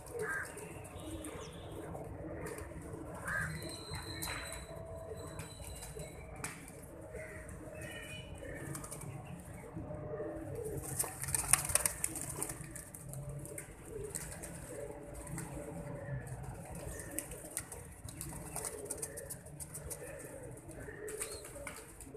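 Pigeons (kabootar) coo softly in the background amid faint chirps, occasional wing flutters and distant ambient noise, low and continuous.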